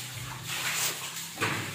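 Water runs into a container at home, a close hissing rush that swells in two surges over a faint low hum.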